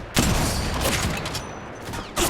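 Gunfire crackles through an Apex Legends firefight, dense bursts of rapid shots that stop and start, with a sharp fresh volley near the end.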